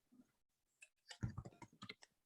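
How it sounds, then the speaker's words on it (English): Someone types on a computer keyboard in quiet, irregular bursts of soft clicking keystrokes, close but faint, with short pauses between groups of keys. "I'm typing them in right now for you guys."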